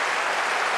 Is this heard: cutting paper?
no